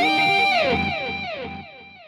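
An electric guitar recorded through Amplitube 3 with reverb plays a few ringing notes with sliding, bending pitches that wash into a long shimmering tail and slowly fade.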